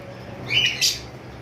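A caged pet bird, among lovebirds and cockatiels, gives two quick high chirps close by over low background hum.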